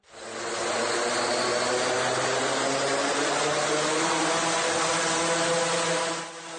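A VTOL fixed-wing mother drone with propellers gives off a loud, steady, high buzzing whine close by, holding for several seconds before cutting off abruptly.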